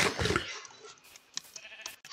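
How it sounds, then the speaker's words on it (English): Sheep in Minecraft bleating, a few short nasal calls near the start followed by quieter game clicks and soft thuds. "I see a sheep."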